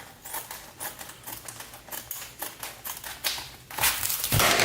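Plastic film for a homemade graphene supercapacitor pouch being cut to length, heard as a run of close, crisp snipping or ticking strokes that grow louder and denser toward the end, with no talk.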